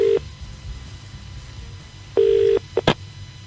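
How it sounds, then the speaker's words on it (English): Telephone dialing a number: a short steady tone sounds at the start, then after a quiet pause a longer tone and a few quick dial beeps, all loud and clear with a faint hiss underneath. "let's give it a dial up and see how we go here"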